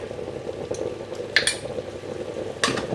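Spices being stirred into a cauliflower curry in a pan: soft scraping and clinking of a spoon against the metal, with a couple of sharper clinks, over a faint steady sizzle.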